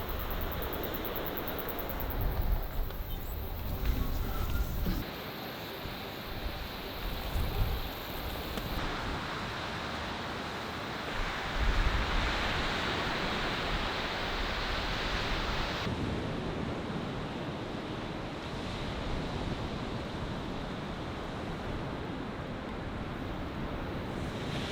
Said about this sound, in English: I see the waves breaking just below me.